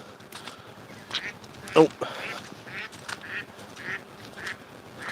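A duck quacks in a muddy field, giving a few short quacks in a loose series under someone talking. His footsteps squelch faintly in the background.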